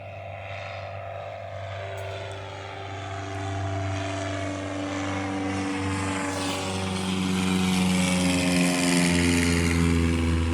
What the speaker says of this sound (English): It's hard to hear when a plane's going over your head